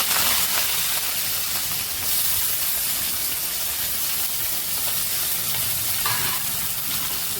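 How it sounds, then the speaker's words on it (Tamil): Curry leaves, chopped onion and green chilli go into hot oil with frying fenugreek for a spicy fish curry, giving a loud, steady, close sizzle and crackle that carries on without pause and with no voices. "இப்போ இதில் கருவேப்பிலை, வெங்காயம், பச்சை மிளகா வெட்டி வச்சது எல்லாத்தையுமே இப்போ போட்டுருவோம்."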